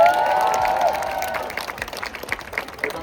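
Audience applause and cheering at an outdoor showcase concert, a broad crowd of clapping that swells early with shouts and whistles, then thins to scattered claps.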